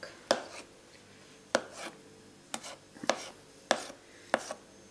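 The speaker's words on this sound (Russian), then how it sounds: "Яйца я тоже мелко крошить не собираюсь. А то их и не видно там будет. Покрошу покрупнее." A knife chops boiled eggs coarsely on a board for sorrel salad, six or so crisp, evenly spaced thuds close by, with quiet pauses between strokes.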